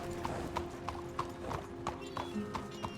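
Horse hooves clop in a steady, even rhythm in Red Dead Redemption 2, about three beats per second, continuous and close, with a faint background drone.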